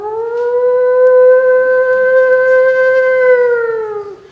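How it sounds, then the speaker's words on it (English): A steady siren wails alone for about four seconds at the end of a countdown at a crowded indoor event, loud and sustained with a pitch that holds, then dips as it fades. "As soon as one is reached, sirens go off."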